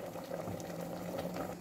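A pressure cooker holding chickpeas, chicken and carrots in water bubbles and seethes steadily, giving off a dense, continuous boiling churn close by with no pauses.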